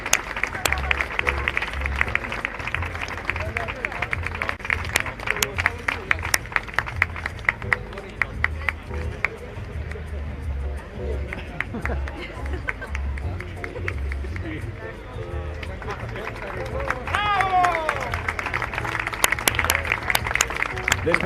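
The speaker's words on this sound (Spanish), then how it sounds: "Vamos a darle un fortísimo aplauso a estas 3 cracks" Crowd applause at a race walking awards ceremony in A Coruña, with sustained clapping and cheering over crowd babble and an announcer's voice, steady throughout with a brief dip before swelling again.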